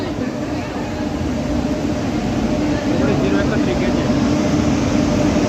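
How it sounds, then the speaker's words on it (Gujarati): A train pulls into a station on a route toward Rishikesh, Uttarakhand, with a steady broadband rumble and rolling noise that holds at a constant level throughout, while voices talk over it. "આવી રહી છે અમારી ટ્રેન આવી ગઈ"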